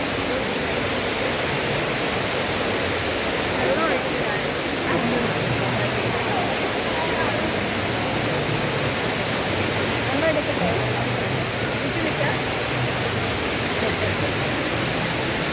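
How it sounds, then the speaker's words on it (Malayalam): Steady, even rush of an indoor waterfall falling from a height inside Dubai Mall, a dense continuous roar with no breaks or talk audible above it. "എവിടുന്നാ വെള്ളം വീഴുന്നതെന്ന് മുകളിന്ന് വെള്ളം വീഴുന്ന"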